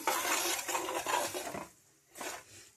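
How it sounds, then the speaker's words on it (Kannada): Peanuts being stirred and roasted in a dry pan with a metal spoon for tempering, close scraping and rattling strokes that stop briefly, then return in a short burst. "ಈಗ ನಾನು ಬಾಣಲೆ ಇಟ್ಟು ಶೇಂಗಾ ಹಾಕ್ಕೊಂಡಿದ್ದೀನಿ ನೋಡಿರಿ"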